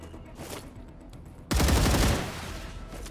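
Dense burst of automatic gunfire erupts partway through, loud and sustained for about a second before tapering, as enemies are shot at in the sci-fi game StarRupture, following a quieter stretch of background ambience.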